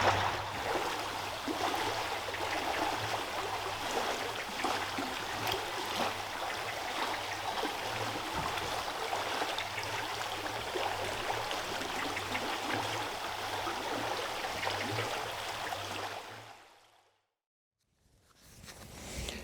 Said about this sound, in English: there's our wonderful river again, the River Mells, here in Mells in Somerset